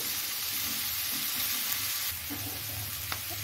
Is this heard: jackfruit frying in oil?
yes